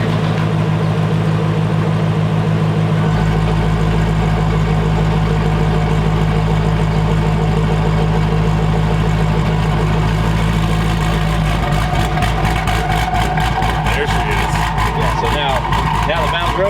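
Twin-turbo Ford Mustang GT350 engine idling with its active exhaust valves open in drag mode, a deep steady rumble with a lumpy cam-style lope that sharpens near the end, heavy and close under ongoing talk.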